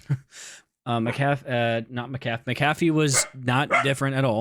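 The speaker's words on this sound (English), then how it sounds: "Excuse my dog." A dog gives a short bark at the start, then someone talks steadily over the rest.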